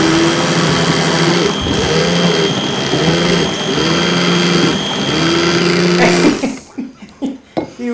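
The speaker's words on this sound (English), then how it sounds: "Lid on the blender." A kitchen blender with banana and wine inside runs loud and close with a steady whirring motor and rhythmic churning pulses, then cuts off, leaving brief clattering sounds.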